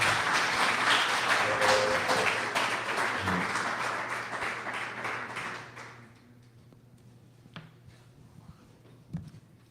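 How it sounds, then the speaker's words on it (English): Audience at a marketing presentation applauding a presenter, a dense round of clapping for about six seconds that fades out, followed by near silence with a couple of faint knocks. "let's give Evan a round of applause"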